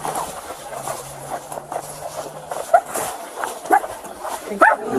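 A police K-9 dog barks inside a house during a search, with sharp barks and yips spaced through a noisy indoor scene that has background rumble and voices.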